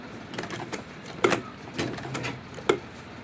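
A sewing machine topstitches a tote bag in short, uneven bursts of quick mechanical whirring and clicks, close and fairly quiet, with pauses between the runs.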